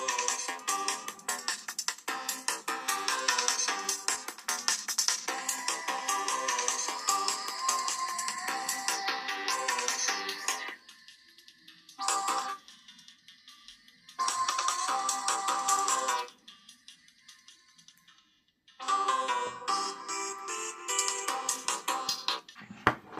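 A Samsung Galaxy Watch Classic plays a loud electronic ringtone melody at maximum volume in bursts, breaking off briefly and resuming several times, bright and close with no talking.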